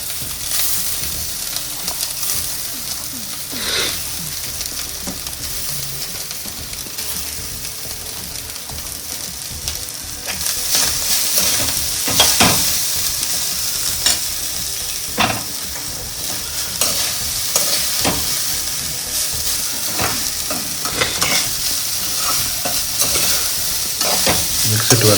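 Food fries in a pan with a continuous sizzle while it is stirred and tossed, producing repeated sharp scraping and clattering hits that grow busier in the second half; no voices.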